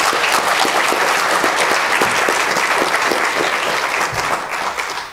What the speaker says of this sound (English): I'd like to suggest a round of applause for the 2010 Council